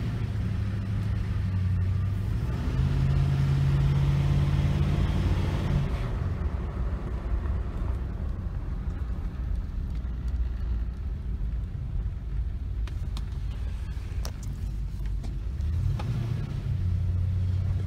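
A 1973 Gran Torino V8 fitted with Holley Sniper EFI idles with a steady, close low rumble, its tone shifting partway through as the revs drop and later lift again.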